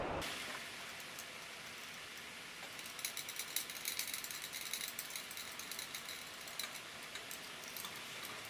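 Carburetor clamp screws on a 2017 Legends race car being tightened, giving a continuous fast ratcheting clicking that stays near and fairly loud, with no talk.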